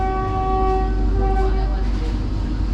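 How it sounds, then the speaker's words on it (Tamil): A Vande Bharat train pulls out of Chennai Central station, its steady horn tones ringing loud and close over the continuous rumble and rattle of the rail cars. "புரட்சி தலைவர் எம்ஜி ராமச்சந்திரன் ரயில்வே ஸ்டேஷன்லேருந்து இந்த ட்ரெயின் ஸ்டார்ட் ஆகிடுச்சு"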